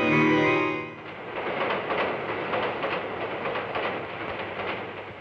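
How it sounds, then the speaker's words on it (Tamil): Train rolling along rails in a dramatic film scene, a steady dense rumble with faint rhythmic clatter that continues evenly after a brief louder tonal opening. "இந்த ரயில் சத்தத்தில"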